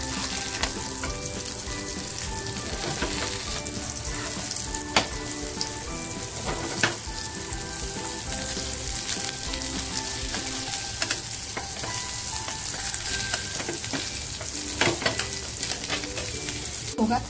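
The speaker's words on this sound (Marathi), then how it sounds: "सगळ्या पॅटी तयार करून झालेल्या आहेत, सगळ्या फ्राय करून घेते" Jawla (tiny dried shrimp) burger patties shallow frying in a little oil in a pan, a steady close sizzle throughout with scattered clicks and light scrapes of a utensil.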